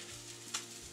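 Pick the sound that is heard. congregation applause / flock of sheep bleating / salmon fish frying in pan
salmon fish frying in pan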